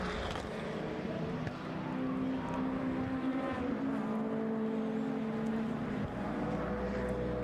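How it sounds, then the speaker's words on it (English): A historic 750 Formula race car at Silverstone passes on the circuit, its engine a steady broad drone holding loud throughout with a slight pitch sweep, blending with other track noise. "There's Ben Bolt now in the number 13 Centaur going through"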